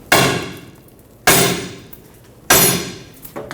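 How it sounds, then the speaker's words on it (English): Three sharp, loud metallic hammer strikes ring out at roughly even intervals on a seized lower control arm bushing of a Chevrolet Colorado, each with a brief ringing decay, close up. "Let's see what we can do by just tapping it with a hammer."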